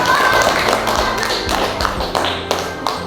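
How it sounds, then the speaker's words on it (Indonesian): Schoolchildren in a classroom clap for a group's announced score, a loud, continuous rattle of many hands with some heavier thuds and faint voices underneath. "Tepuk tangan."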